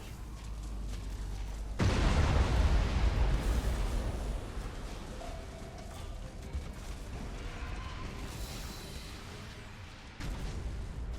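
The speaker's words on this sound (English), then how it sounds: "Fire the missiles." Missiles launch and detonate in a space-fleet battle in the video game Battlefleet Gothic Armada 2: a sudden, loud roaring blast that rumbles on for several seconds and fades, then a second burst erupts near the end.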